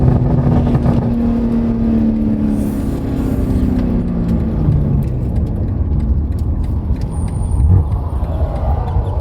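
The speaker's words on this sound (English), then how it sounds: "listen to the downshifts" A BMW G80 M3 fitted with an AWE Switchpath exhaust and high-flow catted downpipes, downshifting: a loud, close, steady engine drone with shifting pitch that runs continuously and is heard alone, without talk.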